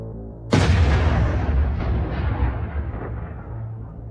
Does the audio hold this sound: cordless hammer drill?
no